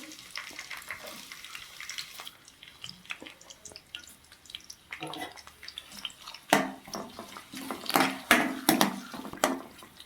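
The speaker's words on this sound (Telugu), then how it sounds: "ఆయిల్ అయితే హీట్ వచ్చేసిందండి మనం ముందుగా కట్ చేసి పెట్టుకున్న ఉల్లిపాయలు అయితే వేసేసుకుంటున్నాను" Chopped onions dropped into hot oil for a capsicum and tomato masala curry, sizzling and crackling close up, growing louder and busier with sharp pops toward the end.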